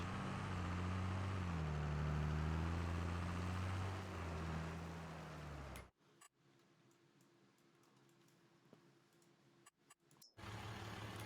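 An International 1486 tractor engine idles in the Farming Simulator game, a loud, steady low rumble for about six seconds before cutting away to near-quiet with faint ticking.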